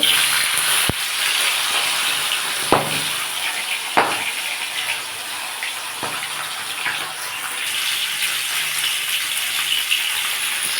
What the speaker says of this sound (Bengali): আমি এবার মাছগুলো ভেজে নেব